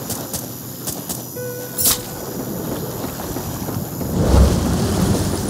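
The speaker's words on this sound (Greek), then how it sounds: "Πέρασαν καταιγίδες και φουρτούνες με κύματα πελώρια" Thunderstorm sound effect: steady rain hiss with sharp crackles and a thunder rumble that swells toward the end, loud and continuous with no talk.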